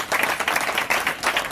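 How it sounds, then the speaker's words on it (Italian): Audience applause from a nearby room, brisk rhythmic clapping in pulsing waves, moderately loud and steady throughout. "Ecco, pure di là ti applaudono."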